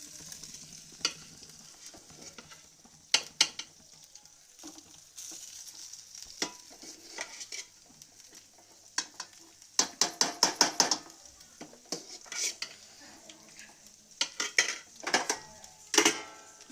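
White rice being stirred in a frying pan, a spatula scraping and clinking against the metal in scattered bursts over a faint sizzle, sharper clatters clustering toward the end.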